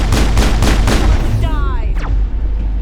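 Soldiers' gunfire in the Mass Effect video game, a quick volley of loud shots over the first second, then a sweeping energy whine and a sharp zip as the burst dies away.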